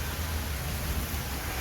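Heavy rain pours down at night, a dense, even roar of hiss that holds steady from start to finish with no voices.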